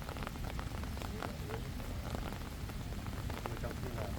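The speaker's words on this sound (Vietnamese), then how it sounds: "Mưa nhỏ không sao đâu" Light rain falls steadily outdoors, a dense, soft patter with scattered drops close by, continuous throughout at low level.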